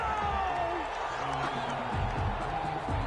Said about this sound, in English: the crowd doesn't like that